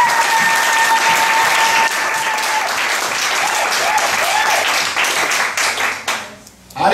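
A church congregation bursts into loud, dense applause, sustained clapping filling the room before tapering off sharply at the end.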